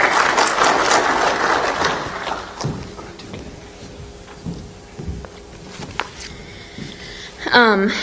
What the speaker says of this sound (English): we're going to make her welcome with a round of applause as she comes and shares her story